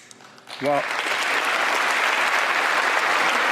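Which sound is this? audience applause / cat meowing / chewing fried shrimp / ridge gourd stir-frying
audience applause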